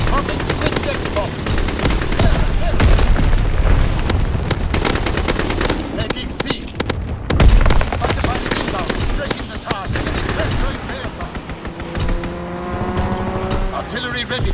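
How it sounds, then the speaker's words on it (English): Call of Duty: WWII combat with heavy explosions and dense automatic gunfire, loud and continuous with roaring rumbles, from a Fritz X bomb drop amid battle, with a voice speaking briefly over it. "Dropping Flitz X bomb."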